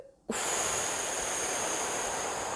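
A long, steady exhale blown out hard after a held breath during a relaxation breathing exercise, close and loud as a rushing breathy noise that runs unbroken for over two seconds with no talk.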